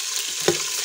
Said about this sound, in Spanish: Voy a dorar las costillas.